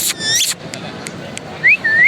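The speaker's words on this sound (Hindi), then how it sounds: "ये मिट्टू बेटे बोल रहा है, मैं मिट्टू हूँ, सीटियाँ हैं, कुछ मुख्तलिफ अल्फाज हैं इसके" A pet parrot at a Sunday bird market in Lalukhet lets out two bright rising whistles near the end, loud and close, after a few short squawky calls and clicks over low background murmur.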